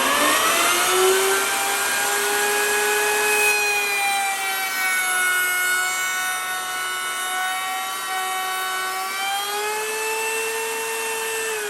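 A miter saw runs during a bus conversion living room remodel, its motor whining loudly and steadily as the pitch drifts slightly while cutting wood, with no voices.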